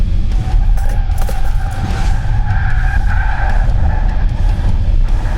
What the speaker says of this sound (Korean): 너무 많이 미끄러진다